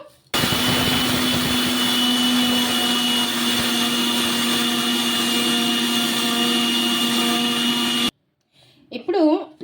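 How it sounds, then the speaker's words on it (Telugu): A mixer grinder whirs loudly and steadily for about eight seconds while grinding flattened rice into powder, then cuts off abruptly, followed by a brief voice. "పౌడర్ లాగా మిక్సీ అయితే పట్టేసుకోవాలి మనము"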